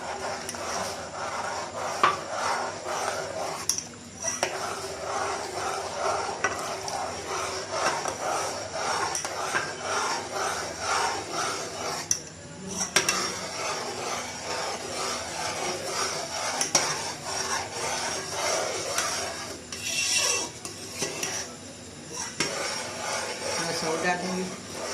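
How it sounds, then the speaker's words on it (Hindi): A spoon scrapes and clinks against a pot as custard is stirred into milk, giving repeated rhythmic stirring sounds, fairly close, with someone talking over it at times. "फिर मैं इसके अंदर आस्ता आस्ता ये कस्टर्ड शामिल कर दूँगी।"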